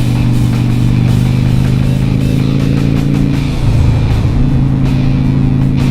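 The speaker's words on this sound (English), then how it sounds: "Now we have a car here on my right." A car rolls along in traffic close beside a motorcycle rider in Pennsylvania, its steady engine drone blending with loud continuous road and wind noise throughout.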